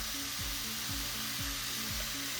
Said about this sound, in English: just let it saute